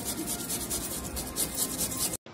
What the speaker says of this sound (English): Now grate the peeled beetroot with a handheld grater or a food processor.